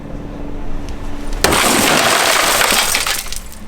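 Tempered back glass of a junked van shattering under a thrown object: a sudden loud crash followed by a sustained, bright spray of crumbling glass that fades after a couple of seconds.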